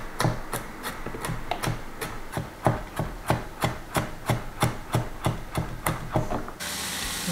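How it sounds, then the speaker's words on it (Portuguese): A knife chops two garlic cloves on a board in a quick, even rhythm of about fifteen crisp, close taps, then a softer hiss takes over at the end. "Vou também picar aqui 2 dentinhos de alho para dar mais sabor ao meu refogado"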